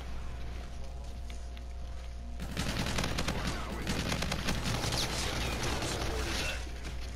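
Dual pistols firing in a shooter video game, a quiet stretch giving way to a dense, sustained burst of rapid gunshots that stays loud to the end, with a player's voice faintly mixed in.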